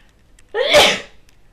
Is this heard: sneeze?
yes